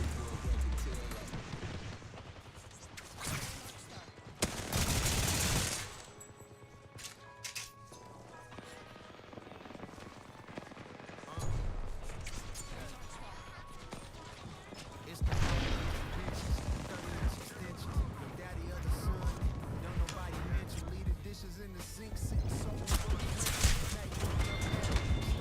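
Gunfire from a video game bursts out in loud clusters, heavy near the start and again through the second half, with people talking over and between the shots.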